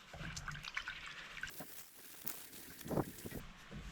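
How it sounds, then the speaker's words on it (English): A golf club being washed with a scourer in a bowl of water: soft sloshing, dripping and trickling, close but quiet, with a couple of brief splashier moments and no talk. "let's go and pop it in the bowl and give it a wash"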